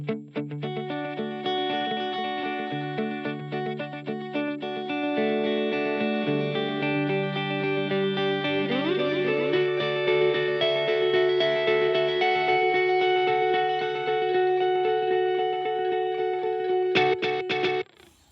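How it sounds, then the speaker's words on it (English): Electric guitar runs through a Line 6 HX Stomp delay effect, notes and chords ringing with echoing repeats that stack and trail off, played alone and loud for about eighteen seconds before stopping abruptly. "Delay."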